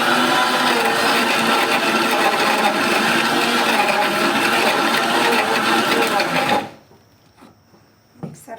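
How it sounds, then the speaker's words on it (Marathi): A mixer grinder runs loud and steady for about six and a half seconds, grinding grated potato into a fine paste, then cuts off abruptly, leaving a quiet room with a few faint clicks and knocks. "मिक्सरच्या भांड्यात हे करून घ्यायचे. मिक्सरच्या भांड्यामधनं त्याचा गर काढायचं, चांगलं मस्त बारीक करायचं."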